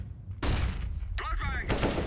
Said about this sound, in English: I am throwing a flashbang.